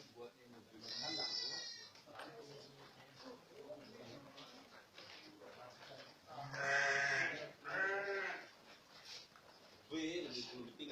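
Goats bleating in their pens on a goat farm, with several loud close calls rising over nearby people talking.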